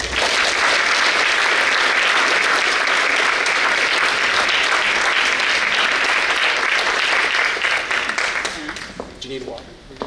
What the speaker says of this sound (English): Let's have a big round of applause for Mary Rowe.